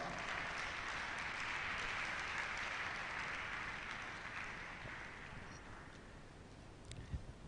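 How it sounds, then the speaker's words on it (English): An audience at an inaugural lecture claps steadily in a dense, sustained round of applause that gradually tapers off toward the end. "Please keep clapping for her."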